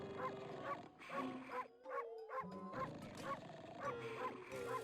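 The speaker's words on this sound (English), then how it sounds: "I'm surprised he's not waking up to the dog barking right next to him." A dog in the video game Okami HD barks repeatedly in a quick, rhythmic series of sharp yaps close by, with a short pause midway, and no talk over it.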